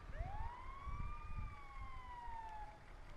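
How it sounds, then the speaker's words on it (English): A police siren in the video game GTA San Andreas gives one long, sweeping wail that rises and then slowly falls. It sounds fairly faint and distant over low, rumbling game background noise. "This is a siren from fucking San Andreas"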